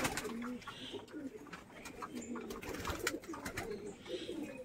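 Racer pigeons in a loft coo in soft, repeated rolling phrases, several birds close by overlapping one another, with faint rustling between the calls.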